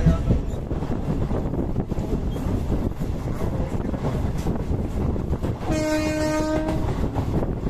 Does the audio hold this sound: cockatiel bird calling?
no